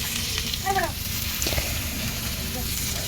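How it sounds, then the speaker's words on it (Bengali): Chopped onions sizzle and fry in hot oil in a pan for Bengali-style egg bhuna, a steady crackling hiss throughout while a voice speaks over it. "এখন আমি এই তেলের মাঝে পেঁয়াজ কুচিগুলো দিয়ে দিচ্ছি।"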